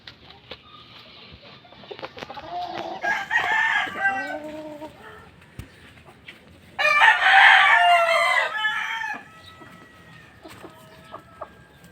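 A rooster crows twice, loud and close, with clucking fowl and other farmyard bird sounds filling the pauses between crows.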